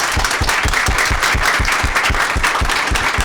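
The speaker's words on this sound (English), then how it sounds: "if we can give them a quick round of applause for showing up" A conference audience applauding a panel at a workplace allyship event, dense steady clapping filling the room at close range and loud throughout.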